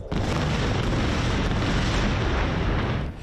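A dense barrage of booming missile explosions in the air in the distance as air defenses intercept them over Israeli cities, rumbling continuously and overlapping for several seconds with no voices.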